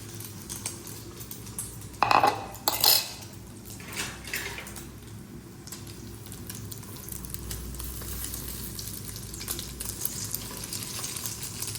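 Eggs fry in a pan with a continuous fizzing sizzle, broken early on by a few louder clatters of a utensil stirring against the pan, with no talking.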